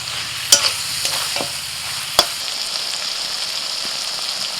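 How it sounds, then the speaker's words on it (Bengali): Boiled hopa stir-fried with onion and sesame in a pan: a steady sizzle with a few sharp spatula clanks and scrapes near the start, then continuous frying hiss alone. "সিদ্ধ করা হোপাটা দেওয়ার পরেতে আরও মিনিট 5 নাড়াচাড়া করে রান্নাটা করে নিয়েছি।"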